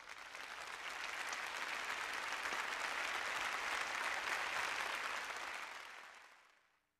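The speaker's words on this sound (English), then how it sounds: "Round of applause again, please," An audience applauds an award recipient at an alumni awards night, steady sustained clapping that holds evenly for several seconds before fading out at the end.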